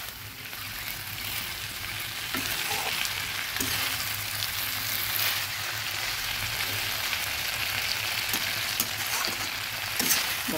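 Fish head curry sizzles and fries steadily in a pan while being gently stirred, with scraping and clinking against the pan and a constant bright hiss throughout, close and fairly loud with no voices.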